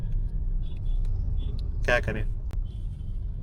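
Heavy road traffic on the Shadipur flyover in Delhi keeps up a constant low rumble of engines close by, with a short burst of speech partway through.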